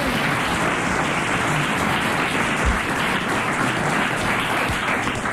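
Studio audience bursts into sustained applause, a dense, even patter of many hands clapping at steady loudness for several seconds, with no talking over it.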